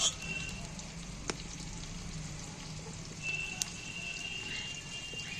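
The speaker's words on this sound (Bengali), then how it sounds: "আলুগুলো অনেকটাই ভাজা ভাজা হয়ে এসেছি" Potatoes fry in a pan with a soft, continuous sizzle, broken by a couple of sharp pops and a slightly louder spurt of crackling partway through.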